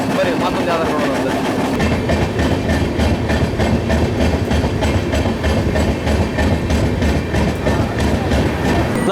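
A KSR Bengaluru double-decker express train runs steadily on the rails, a continuous loud rumble with rhythmic clickety-clack throughout, heard up close alongside voices talking.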